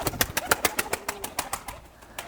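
Bulut and silik pigeons, a breed native to Aksaray, coo and flutter close by in a steady run of soft, rhythmic pulses, about a dozen in quick succession before trailing off.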